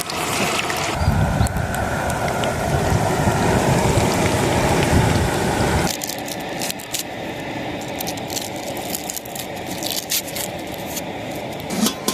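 Steady rain falls outdoors during village cooking of chilli chicken, a dense loud hiss that softens midway, with drops pattering on surfaces nearby.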